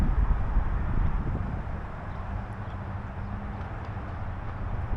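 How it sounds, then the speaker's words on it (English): Low, rumbling wind buffeting the microphone outdoors, steady and fairly loud with no voices. "the wind is kicking. It is pretty windy"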